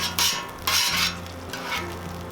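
A spatula scrapes melted cheese and grease across a Cuisinart 360 griddle in three rough metallic strokes over a faint background sizzle, with no talking.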